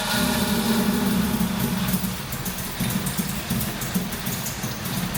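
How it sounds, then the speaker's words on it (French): A Citroën CX GTI, left abandoned for ten years, idles after being restarted, its engine running roughly with a steady low rumble and uneven pulses, close and alone. "nous avons pu démarrer le moteur."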